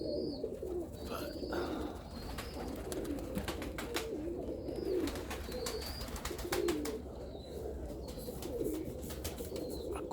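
Serbian highflyer pigeons coo softly and repeatedly near their loft, low murmuring calls layered over a constant outdoor hum, with occasional faint chirps and wing sounds.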